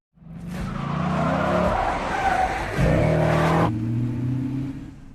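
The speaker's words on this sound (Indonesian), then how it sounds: "si John pun langsung auto putar balik setir 180 derajat untuk menyelamatkan si Marcus" A car skids through a sharp 180-degree U-turn in a John Wick action film scene. Loud, close tire screeching rides over a revving engine, then cuts off abruptly, leaving a lower engine rumble.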